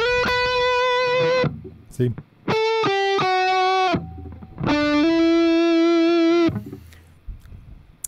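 Electric guitar played through an amp and cabinet with all effects and reverb switched off, sounding as three sustained distorted chords in turn with short pauses between them and a brief spoken word near the end.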